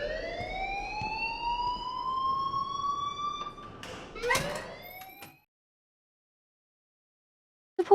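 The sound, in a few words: school alarm ringing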